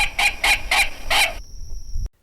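A recording of a least bittern call plays from a loudspeaker during a bird survey: four evenly spaced, loud, clucking notes, then a short fade of background hum before it stops.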